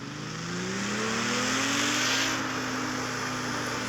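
A car engine in the CarX Street racing game revs up with a rising, droning pitch that levels off and holds steady, loud and continuous with a faint tire hiss.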